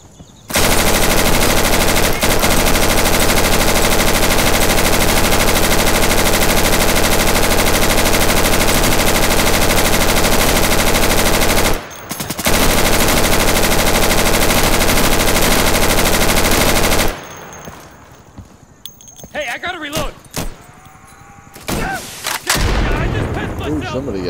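Gunfire in the video game Insurgency, a loud sustained burst of rapid automatic fire that cuts out briefly, resumes, then breaks into scattered shots and lighter clatter.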